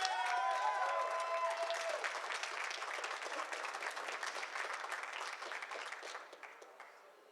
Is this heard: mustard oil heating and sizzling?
no